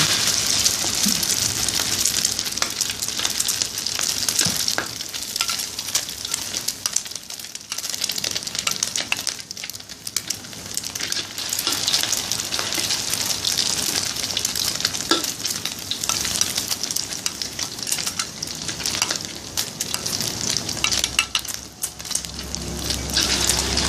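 Sticky rice balls deep-frying in hot oil, giving a loud, continuous crackling sizzle with fine popping bubbles that rises and falls for a long stretch, close up and with no talking.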